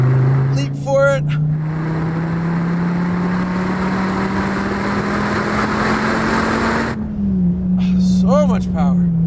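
A 2013 SRT Viper GTS accelerates hard on a race track, its engine note climbing steadily in a loud, sustained pull before easing off, with someone talking briefly at the start and again at the end.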